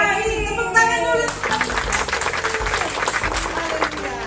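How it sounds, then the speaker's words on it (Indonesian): Hands clapping during an online Sunday school service, a short burst of mixed clapping following a voice, with music or tonal sounds in the background and speech around it. "Tepuk tangan dulu."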